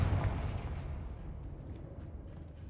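Confringo fire spell in Hogwarts Legacy, a heavy booming blast at the start that rolls off into a long, fading rumble, loud and close with no talk.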